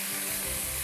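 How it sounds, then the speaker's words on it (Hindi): Rice sautéing in a hot pan alongside chermoula prawns gives a steady, close hiss of sizzling through a brief moment, with no talking. "चावल को भी अच्छी तरह सॉटे करिएगा।"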